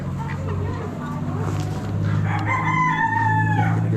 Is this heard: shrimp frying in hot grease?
no